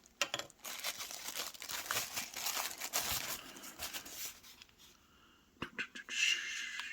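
Plastic film is peeled and crinkled off an Auvon LED motion night light, close and fairly quiet, in a burst of crackling and tearing that pauses and then returns in short crinkly bursts.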